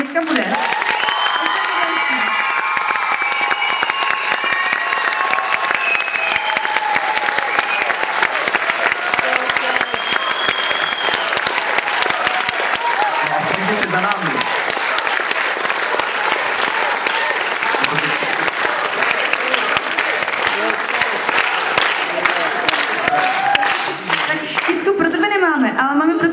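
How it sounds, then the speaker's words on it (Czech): Sustained applause and cheering from a large crowd fills the whole stretch, dense and loud, with occasional shouts rising above the clapping. "si zaslouží úplně největší potlesk, co tady dneska bude."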